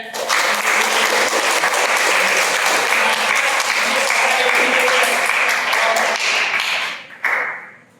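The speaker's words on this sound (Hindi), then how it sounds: "एक बार जोरदार ताली हो जाए।" Loud, sustained applause from a theatre audience at a Hindi stage play event in Prayagraj, thick steady clapping for several seconds that drops briefly and resumes before fading.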